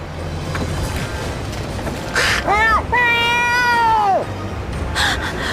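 A loud, drawn-out cartoonish cat meow with rising and falling pitch over background game music, preceded by a few short mewing chirps, from the 3DS game Bravely Second.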